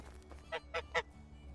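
Three loud goose honks from a game goose in Medieval Dynasty, coming in quick succession and each one a bit stronger than the last, over a low steady background hum.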